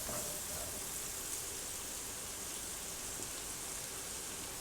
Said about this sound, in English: Go ahead and saute these around in the hot pan with the butter and the oil